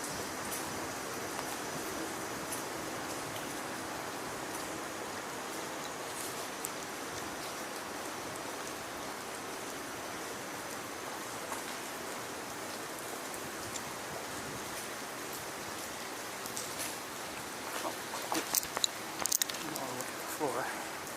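Steady rain falls outdoors in a light, even hiss, with a few louder patters near the end and no talk.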